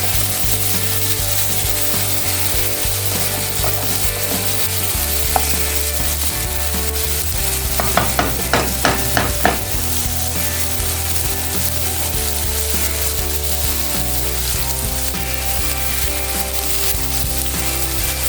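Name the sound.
frying spice paste in oil for shol fish curry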